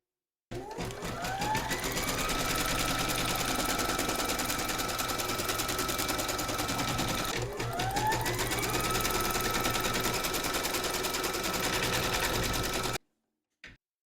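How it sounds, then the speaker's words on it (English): Embroidery machine stitching batting in a hoop, a steady rapid needle clatter holding loud and even for about twelve seconds with a brief hitch midway, then stopping. "Pop your hoop into your machine and stitch round number 2 to secure it."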